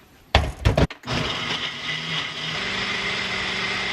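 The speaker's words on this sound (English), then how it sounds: "investing in a good blender was so worth it" A blender blending a smoothie whirs steadily after a few short clunks, its motor holding a loud, even high-pitched drone to the end.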